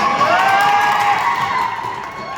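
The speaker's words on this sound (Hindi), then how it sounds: "एक बार पुरोहित जी के लिए जोरदार तालियां" At a farewell programme for a school's July batch, a large crowd cheers and claps for the priest, with a loud, sustained roar of shouts and whoops, some of them children's, that tapers slightly toward the end.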